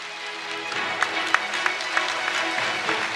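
An audience at an international youth peace conference claps, a short burst of applause with a few sharper, evenly spaced claps standing out over a steady tonal background.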